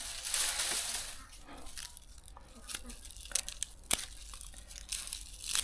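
Dry, dirty papery skins peeled and torn off cured garlic bulbs after the roots and stem are trimmed, giving close, irregular crinkling and crunching crackles with a few sharper snaps.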